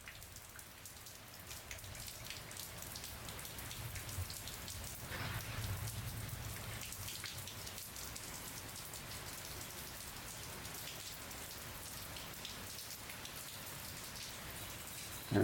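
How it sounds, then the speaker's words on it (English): Constant overnight rain patters heavily outdoors, a thick, unbroken wash of drops at even loudness with nobody speaking. "It's been raining constantly all night."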